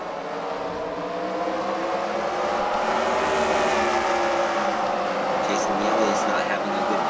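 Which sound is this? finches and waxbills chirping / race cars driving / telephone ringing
race cars driving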